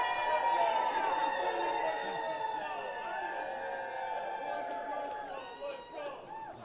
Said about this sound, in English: look at this incredible group down here on the trading floor, and the crowd goes wild on the Friday